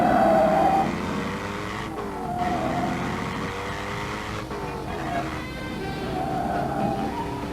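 A Dodge Challenger R/T runs a pylon course at about 50 mph, its engine droning steadily while the tires squeal in several drawn-out, wavering bursts.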